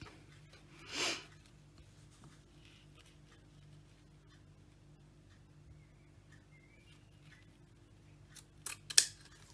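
Scissors snipping through lace in a quiet room, one short cut near the start, then a cluster of crisp snips near the end with faint rustling between.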